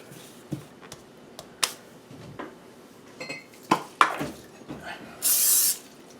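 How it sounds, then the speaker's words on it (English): Vegetable oil spray hisses into a mixing bowl for about half a second after scattered clinks and knocks of bowls and utensils in a home kitchen. "A little bit of vegetable oil spray in a bowl."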